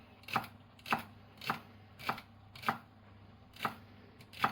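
A knife chopping celery on a board, eight steady evenly spaced thuds, close and fairly quiet with no talking.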